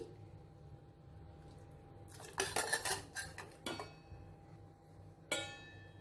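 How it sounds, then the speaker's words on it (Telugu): A metal dal masher works through tomatoes, tamarind and curry leaves in a pot, giving a run of close clanking and scraping knocks against the vessel, with a final sharp clink after a pause. "ఇప్పుడు పప్పు గుత్తితో ఈ టమాటోలు చింతపండు కరివేపాకు ఇవన్నీ ఇలా మ్యాష్ చేస్తూ మెత్తగా మెదిపేసుకోవాలి"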